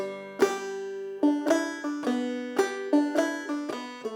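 A banjo plays the Wild Horse tune slowly and clearly, with plucked notes, pull-offs and a drop-thumb lick ringing out in an uneven rhythm, solo with no voice.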